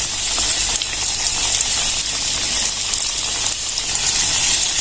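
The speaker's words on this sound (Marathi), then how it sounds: "याच्यात आपल्याला एक एक फोड कारल्याची घालून घ्यायची जसं आपण भजी तळतो" Bitter gourd slices deep-frying in hot oil, a loud, steady bubbling hiss with a dense crackle that carries on without pause, close up and with no talking.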